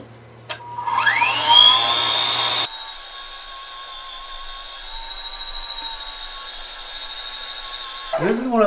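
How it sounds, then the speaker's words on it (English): A KitchenAid stand mixer with a grinder attachment grinding meat for chorizo: the motor spins up to a loud, steady high whine, then drops to a quieter continuous hum, close by with no voices, and a short clatter at the end. "And we're gonna grind."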